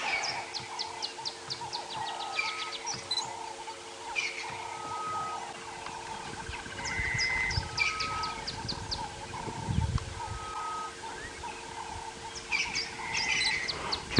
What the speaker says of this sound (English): Can you hear the birds, everybody?